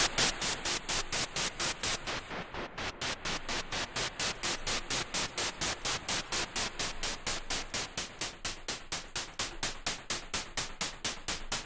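A synthesized noise burst pulses rapidly in an even, rhythmic sequence, a bright hissing texture chopped into fast repeated beats.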